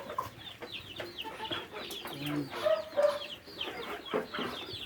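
Pet chickens cluck softly in short, scattered calls, a few hens murmuring at once nearby in a quiet setting.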